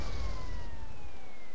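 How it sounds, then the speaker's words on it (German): A police car siren in GTA San Andreas multiplayer wails with a slowly falling tone over steady engine rumble, fairly faint and continuous. "Wer ist das Polizeiauto da?"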